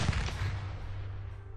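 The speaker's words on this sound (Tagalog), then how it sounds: "At biglang nagpaputok." A single gunshot sound effect in a narrated horror story, one sharp loud bang followed by a deep rumbling echo that fades out.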